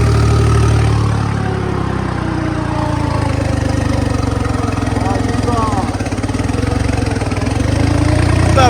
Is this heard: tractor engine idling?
yes